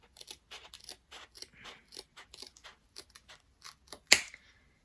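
Scissors snipping card for a lantern craft, a quick series of close, crisp cuts in an uneven rhythm, ending in one sharper, louder snip, with no talk.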